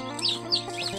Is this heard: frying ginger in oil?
no